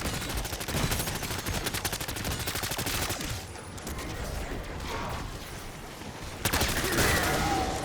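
Rapid MP40 submachine gun fire in a Black Ops 6 zombies match, repeated fast bursts of shots separated by short pauses with mechanical clatter, loud and close throughout.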